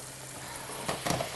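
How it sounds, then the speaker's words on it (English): Cognac hitting a hot pan with pepper and a little olive oil for steak au poivre, giving a steady low sizzle that swells into two brief louder hissing bursts near the end. "I'm going to put a little cognac in here."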